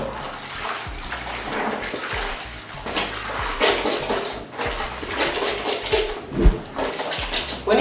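Colored floral clothes are scrubbed by hand in soapy water, wet sloshing and squelching rubs coming in irregular bursts, close and moderately loud, with no talking.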